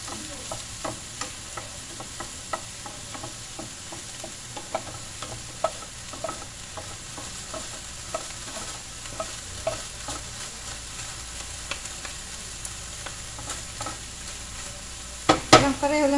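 Onions and leeks sautéing for bangus relyeno filling make a soft, continuous sizzle, punctuated by frequent light clicks and taps of a spatula stirring in the pan, with a sharper clatter near the end.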